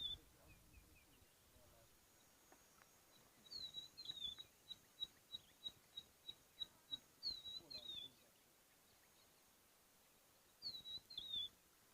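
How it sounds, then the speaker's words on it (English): A rufous-naped lark calls in open country, its thin whistled notes faint and distant, repeating in a quick series of evenly spaced chirps and then returning briefly after a pause, against quiet ambient background. "There's a rufous-naped lark calling somewhere here."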